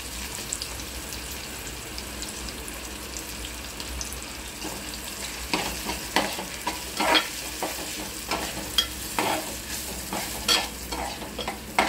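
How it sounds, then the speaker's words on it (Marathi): Red masala frying in a pan with roasted onion for chana masala, a steady sizzle under repeated scraping strokes of a spoon as it is stirred, close up and growing busier in the second half. "आता कांदा भाजलेला आहे आणि यामध्ये आपला लाल मसाला आपण टाकत आहोत।"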